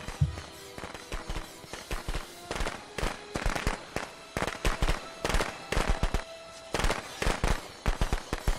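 Rapid, sharp firecracker pops in the video game Friday the 13th burst in irregular clusters, crackling continuously at moderate loudness with almost no pauses between volleys.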